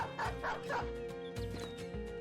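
Dogs bark in the video game Battle Brothers, a handful of short yapping barks in an uneven rhythm over a sustained musical drone, fairly close and clear.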